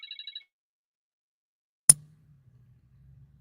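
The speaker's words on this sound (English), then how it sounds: "I have to answer a phone call." A phone gives a short burst of four quick electronic ring pulses for an incoming call, then falls silent before a sharp click and faint low rumble follow.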